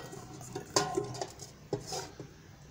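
A metal pizza pan is set carefully into a preheated pressure cooker on a stove, giving a few faint metallic clinks and scrapes against a low background.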